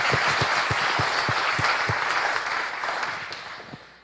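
Audience applause for an evening speaker at the Clinton School, a loud, dense patter of many hands clapping with no talk, holding steady before tapering slightly toward the end.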